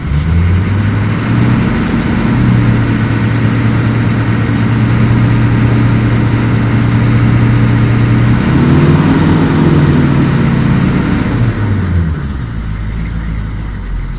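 A car engine idles steadily at first, then revs as the throttle opens, its pitch rising and holding before dropping back, loud and close with no talk.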